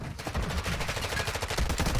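Rapid bursts of gunfire rattle continuously, loud and close, like automatic weapons firing in quick succession, from an ISO 45 in Warzone 2 on Vondel Park.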